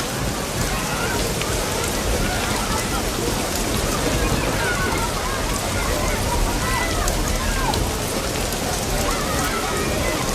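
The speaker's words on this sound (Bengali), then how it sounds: "দেখো বৃষ্টি এসেছে" Steady rain falls across the whole scene, a dense, even hiss of drops on surfaces with low rumble beneath, continuous and fairly loud with no pauses.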